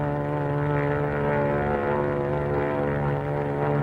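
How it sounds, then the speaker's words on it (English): A propeller airplane drones steadily overhead, a cartoon-style sound effect with a strong, even hum holding at constant loudness throughout, with no voices over it. "It's a plane, all right."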